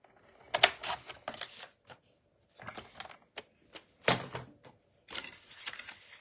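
Paper being cut by hand for a stamped greeting card, short crisp snipping and slicing bursts in irregular clusters separated by quiet pauses, close and fairly loud with no talking.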